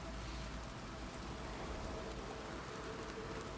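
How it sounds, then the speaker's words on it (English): Steady rain patters inside a cave in Elder Scrolls IV: Oblivion Remastered, a soft, even hiss of drops with no voices. "I'm still gonna listen to the rain while I'm in the cave for a minute."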